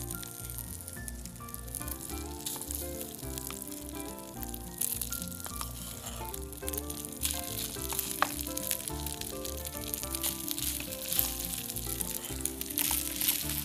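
Cooked rice frying in a pan for lemon butter rice gives a continuous crackling sizzle with scattered spatters, while utensils clink and faint background music plays.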